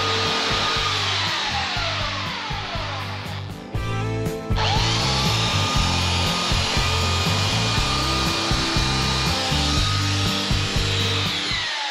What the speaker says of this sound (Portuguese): já começou a lixar por aqui